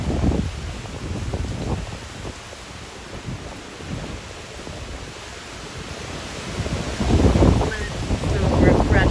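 Hurricane Ian's 55-mile-per-hour gusts roar outdoors in Lakewood Ranch, Florida, a loud rumbling wind buffeting the microphone in surging waves, easing midway and then building again near the end.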